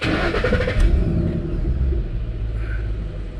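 A 2008 Ford Mustang Bullitt V8, already warm, rumbling close by with a brief blip of revs before settling into a deep, steady idle.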